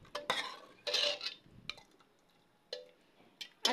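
Jackfruit curry with chopped coriander being stirred in a cooking pot, giving several short scraping and clinking bursts of a spoon against metal, close and moderately loud, separated by quiet pauses.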